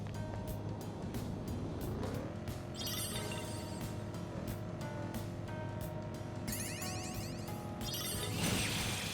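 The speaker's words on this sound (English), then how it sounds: "I don't know why crashing the car into shadows is so satisfying" A car in Persona 5 Royal drives with a constant engine drone and rams into shadows, with several sharp crash impacts and bursts of effects over the running motor.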